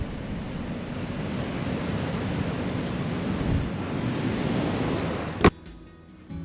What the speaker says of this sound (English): You can hear the wind. It is blowing a gale.